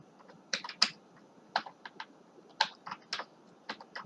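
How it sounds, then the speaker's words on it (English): Typing a password on a computer keyboard, a dozen or so crisp, close key clicks in an uneven rhythm with brief pauses, alone in a quiet room. "So I will type Jai Hind"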